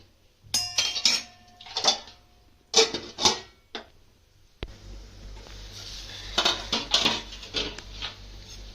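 A lid clatters onto a pot of simmering pakodi pulusu, with a few sharp metallic clinks and knocks up close, then a steady bubbling hiss of the tamarind-based stew boiling underneath.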